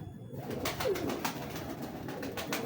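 Domestic pigeons cooing softly at a breeder's loft, low repeated throaty calls over quiet background noise.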